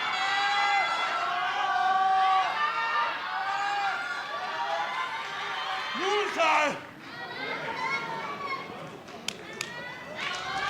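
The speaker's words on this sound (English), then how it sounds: "This crowd is unglued here." A packed pro wrestling crowd at Korakuen Hall during a GHC Heavyweight Championship match roars and chants loudly and continuously, with a commentator talking over the din.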